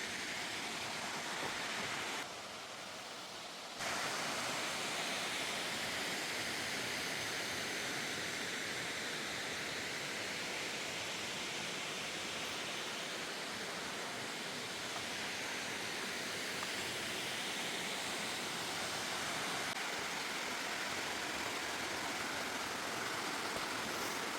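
The Güzelcedere waterfall gives a constant, full roar of rushing water, steady and unbroken throughout with no talking.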